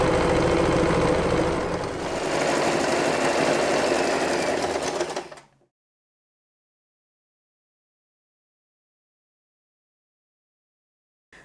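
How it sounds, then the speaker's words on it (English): Sewing machine running steadily as it stitches straight lines through folded, layered fabric for a three-layer hair bow, a close continuous mechanical whir for about five seconds before it stops abruptly into silence. "We will secure the fabric by sewing 2 straight lines in the middle to hold the fold in place."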